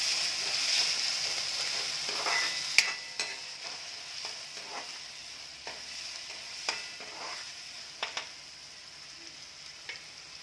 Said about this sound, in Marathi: कांदा परतत असताना त्यामध्ये ढोबळी मिरची घालायची, म्हणजे ढोबळी मिरची चांगली परतली जाते